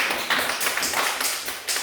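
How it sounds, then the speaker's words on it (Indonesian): Brief, lively applause from a small group honouring a woman teacher trainee, a quick patter of handclaps close by that continues steadily without talk. "Tepuk tangan untuk Ibu Tati dulu"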